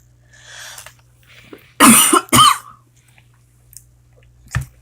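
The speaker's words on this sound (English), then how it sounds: "Sorry about the cough." Two sharp, close coughs break a near-silent stretch, followed a few seconds later by a softer throat sound.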